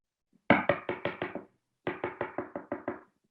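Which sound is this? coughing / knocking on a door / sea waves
knocking on a door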